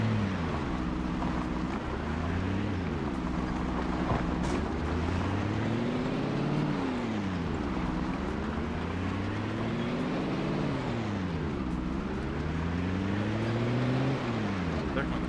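A vehicle engine drives along in the zombie survival game Project Zomboid, droning and repeatedly climbing in pitch before dropping as it shifts through gears, a steady mid-level rumble with faint talk underneath.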